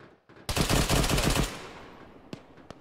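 Gunfire in the military video game Arma 3: a rapid automatic burst of about a dozen shots fires up close for a second, trailing into reverberant echo, then two sharp single shots follow a moment later.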